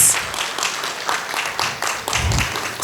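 An audience at a lecture event on women's and children's rights applauds, a dense, steady round of many hands clapping at moderate volume, with a low thump partway through.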